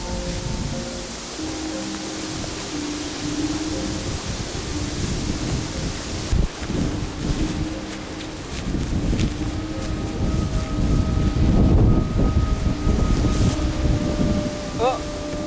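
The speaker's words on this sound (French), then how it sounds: "Avec tout ce vent." Wind blows outdoors at night across open farm fields, gusting and buffeting the microphone in loud, uneven surges, building stronger toward the end.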